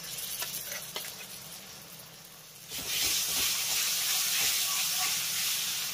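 Bean paste dropped into a pan of frying onion sets off a sudden loud, steady sizzle midway through, following a quieter stretch of low kitchen hiss.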